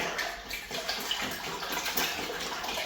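Water sloshes and splashes continuously as an airless paint sprayer is rinsed in a bucket, a steady watery rinsing sound up close.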